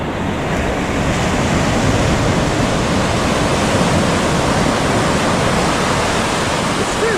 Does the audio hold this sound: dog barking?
no